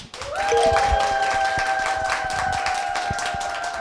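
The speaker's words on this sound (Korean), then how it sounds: "여러분의 힘찬 박수와 함께 시작하겠습니다" Studio audience at a Korean current-affairs talk show gives a sustained round of applause, dense and even throughout, with a held musical tone layered over it.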